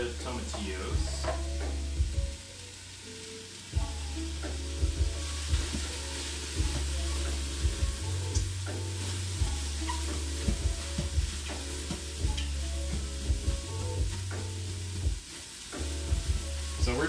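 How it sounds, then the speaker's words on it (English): Tomatillos sauté and brown in a pan for pork chile verde, a continuous sizzle broken by frequent scraping stirs and clacks of a utensil, with a low hum and some speech in the background. "So we're just sauteing the stuff in here, or browning it."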